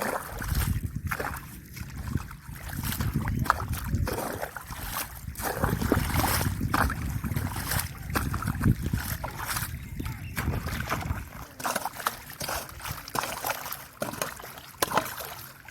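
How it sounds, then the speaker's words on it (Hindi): Water rushes out of a flooded farm field through a freshly cut channel into the neighbouring fields, a continuous close gushing and splashing roar that fades somewhat toward the end, with someone talking over it. "ये जी अभी धड़ाधड़ पानी जो है वो जा रहा है"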